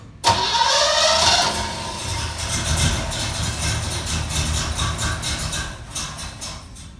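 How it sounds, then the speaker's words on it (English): An engine cranks and catches after a sharp start, the starter whirring briefly before the motor settles into a rough, steady idle, close and fairly loud with no talk. "Starter sounds good."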